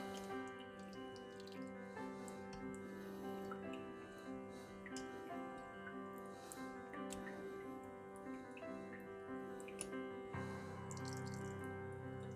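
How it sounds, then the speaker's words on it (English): A small, steady stream of water runs onto a straight razor hone, a faint continuous trickle over a low room hum. "now I got a small stream of water again"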